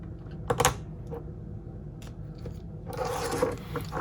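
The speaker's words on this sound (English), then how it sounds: "They're very, very small screws. So make sure you do have the proper screwdriver for this." Small screws being removed from a 3-inch Lumenier QAV-S Mini freestyle quadcopter with a screwdriver, quiet close clicks and scratchy turning bursts over low room hum, no talk.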